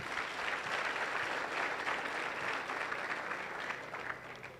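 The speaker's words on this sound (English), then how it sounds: "So let's give a clap to our chaperones for doing a good job." Audience applauding chaperones at an education and leadership congress, a sustained, even roar of many hands clapping from a large crowd, fairly distant in the hall and tapering slightly at the end.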